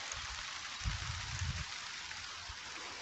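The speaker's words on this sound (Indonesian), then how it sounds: "sudah mulai hujan" Rain begins falling outdoors beside water during a fishing outing, a steady soft hiss of drops with a brief low rumble or thump partway through, no speech.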